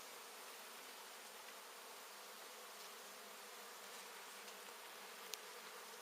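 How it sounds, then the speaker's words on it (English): Honey bees buzzing at an exposed hive indoors, a dense, steady, fairly faint hum of many insects with a few brief ticks, and no voices. "Lots and lots and lots of bees."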